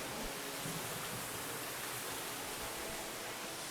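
Water pours steadily into a swimming pool with mosaic tiling at a furnished house in DHA Lahore, a continuous broadband rushing that stays loud and unchanging throughout, with no talk.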